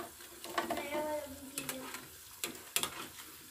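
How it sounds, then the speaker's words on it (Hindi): Pakoras frying in hot oil on a newly installed stove, a soft sizzle broken by a few sharp clinks of a utensil against the pan, fairly quiet and close, with no talking. "ये देखिए मैंने पकौड़े जो है फिर डाल दिए"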